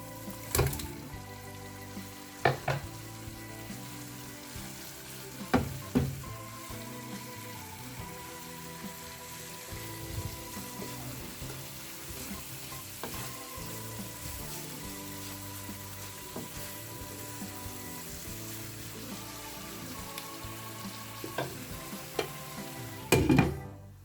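Fish pieces sizzle in a pan with pointed gourd (potol), a steady frying crackle broken by occasional sharp clanks of a spatula against the pan as the food is stirred.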